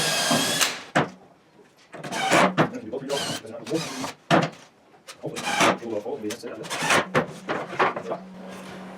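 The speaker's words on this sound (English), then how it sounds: "do another pre-drill" A power drill pre-drilling a hole into a wooden folding table, heard as short bursts of whirring and wood rasping interrupted by pauses, with a person talking between the bursts.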